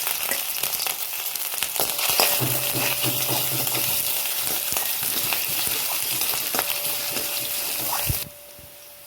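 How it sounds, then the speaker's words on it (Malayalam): Crushed ginger and garlic sautéing in hot oil for a Kerala fish curry, a continuous close sizzle with scattered clicks and a brief low hum, ending abruptly as the sound drops away. "ഇപ്പം ഇഞ്ചിയും വെളുത്തുള്ളിയൊക്കെ ജസ്റ്റ് ഒന്ന് വഴണ്ട് വന്നിട്ടുണ്ട്."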